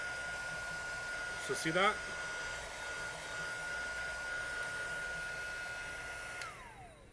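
A heat tool blows hot air onto stamping foam as a steady, breathy whoosh that runs under a man's speech for several seconds, then cuts off near the end.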